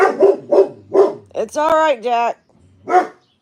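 A dog barks close by in four quick, loud bursts, then someone speaks soothingly over a last bark.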